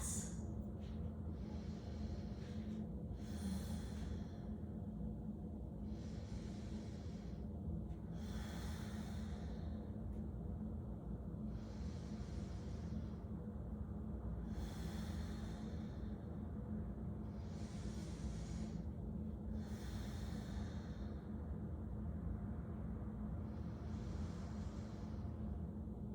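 Slow, deep breaths taken during a held yoga pose, each inhale and exhale rising and fading in a steady rhythm every couple of seconds over a low, constant room hum, soft and close, with no speech.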